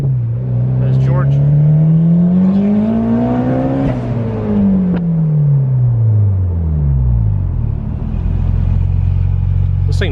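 A Honda S2000 with a titanium exhaust accelerates hard in second gear, its loud engine note climbing steadily in pitch, dipping briefly, then rising again as a close, rumbling rasp fills the cabin.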